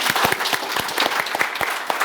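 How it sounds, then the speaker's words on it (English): A panel discussion audience at a business summit breaks into brisk applause, with sharp individual claps close to the microphone against a busier spread of clapping behind. "Round of applause, everybody."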